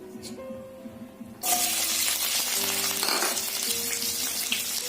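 A sudden loud sizzle erupts as onions hit hot oil, then keeps crackling and hissing steadily, close by.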